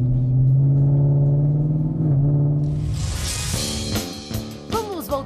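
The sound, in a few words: Ford Mustang engine roar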